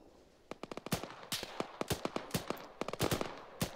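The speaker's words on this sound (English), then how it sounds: "put some covering fire down." Rapid covering gunfire in the tactical military game Arma 3, a dense burst of sharp shots in irregular rhythm, some close and loud, others quicker and lighter, with no talk.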